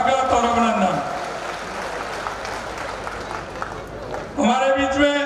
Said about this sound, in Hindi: जोरदार तालियों के साथ स्वागत और अभिनंदन